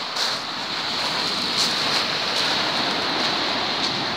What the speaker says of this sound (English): That's all you can hear down here, is just the sound of the waves.